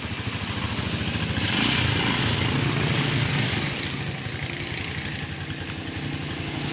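A Rusi 175 motorcycle with grounded wiring and a faulty CDI runs steadily after starting, its engine chugging loudly and continuously close by with a slight swell in the middle, no talking.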